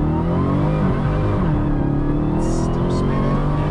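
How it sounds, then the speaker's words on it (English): A Dodge Demon launches hard on a runway: a loud, close engine roar holds steady, then rises in pitch as it accelerates, with a brief burst of tire or wind noise partway through. "I do have a runway. So let's launch it. Launch mode."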